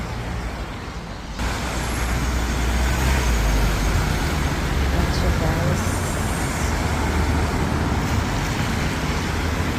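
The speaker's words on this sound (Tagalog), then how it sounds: "Traffic pa siya guys" Rainy road traffic on Bridge Street forms a loud, continuous rumble of engines and tyres on wet pavement, rising sharply after a quieter opening moment when someone briefly speaks.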